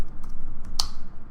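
Computer keyboard tapped a few times while writing a commit message, sparse light clicks with one sharper key strike, no talking.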